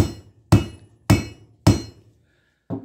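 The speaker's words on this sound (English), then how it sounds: "just lay it on your anvil and give it a few whacks" Three loud, evenly spaced hammer blows on steel snare cable laid across an anvil, each a sharp ringing metallic strike, with a faint lighter tap afterward.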